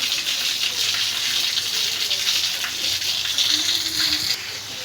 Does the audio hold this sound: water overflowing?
yes